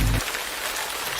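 Rain falling on a surface in a short, steady broadband hiss at moderate loudness, with no voices over it.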